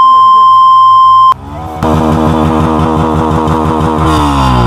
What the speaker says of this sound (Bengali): এফআই ইঞ্জিন যেগুলো আছে সবগুলো এরকম সাউন্ড